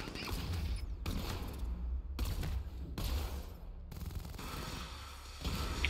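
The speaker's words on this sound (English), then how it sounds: "Then we will shoot these guys." Rapid bursts of gunfire while shooting enemies in the Batman: Arkham Knight video game, dense and continuous with repeated volleys over a low rumbling bed, loud throughout with no talk.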